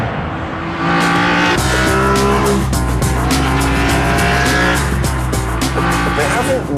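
A BMW M3 CSL cornering hard on an open road, with tyres squealing loudly under a roaring, rising engine note, close and continuous, while someone talks over it.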